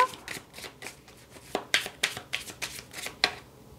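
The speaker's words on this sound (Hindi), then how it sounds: "आपके लिए कार्ड्स को शफल करेंगे" Tarot cards being shuffled close up, with a fast run of crisp riffling bursts in an uneven rhythm and short gaps between them.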